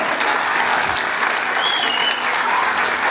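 Loud, even applause from a concert audience welcoming the Tire Municipality children's choir to a Turkish folk music concert, a dense continuous roar of clapping throughout.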